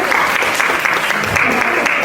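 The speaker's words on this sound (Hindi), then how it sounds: "उनके लिए एक बार जोर से तालियां होनी चाहिए" Audience at a WOW India address applauding loudly, a dense, steady wash of clapping from a crowd filling the whole short stretch.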